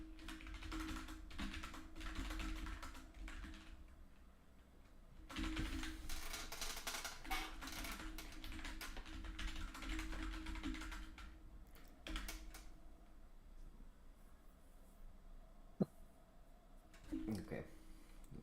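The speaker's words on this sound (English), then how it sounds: "I'm typing it up." Fast bursts of typing on a computer keyboard, quiet clicking runs broken by pauses, with a person talking over the keys.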